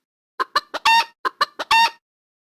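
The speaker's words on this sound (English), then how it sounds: "Where is the chicken?" A chicken clucks in two quick rhythmic runs, three short clucks leading into a longer drawn-out squawk each time, close and clear with silence around.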